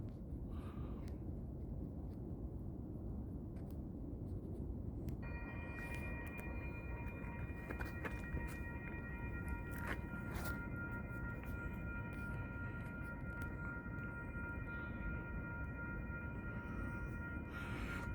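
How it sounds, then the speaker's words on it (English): A CSX freight train with a DODX caboose at the rear rolls past Ballardvale station in Massachusetts, a steady broadband rumble filling the whole stretch. Partway through, sustained tonal lines begin and hold, a horn or squealing wheels over the heavy, continuous rail noise. "CSX 426 approaching here with DODX caboose at the end, and the nuclear core going to Portsmouth Navy Yard."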